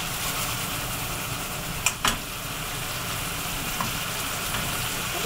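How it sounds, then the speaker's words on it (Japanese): Steady, loud sizzling of leftover water boiling off in a hot frying pan after steaming chicken breast, continuous throughout with a couple of brief clinks partway through. "フライパンに水分が残っているのでここで飛ばしてしまいます。"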